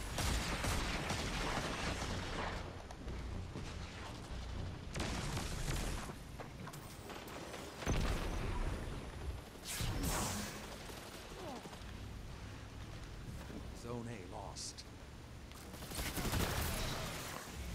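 Gunfire in a multiplayer match of the video game Destiny 2, heard as repeated loud bursts and sharp shots separated by short pauses, with mechanical clatter between them.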